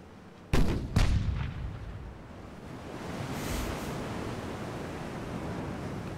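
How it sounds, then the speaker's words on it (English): Warship gun turret in the Ultimate Admiral: Dreadnoughts naval game firing two heavy booming shots in quick succession, followed by a rolling rumble and a wash of ocean and wind noise. "Although it seems like I'm only seeing this turret fire."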